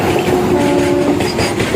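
A freight train rolls along a rail line, its wagons giving a steady, continuous rumble with faint clickety-clack and brief high wheel tones throughout, loud and close, with no talking.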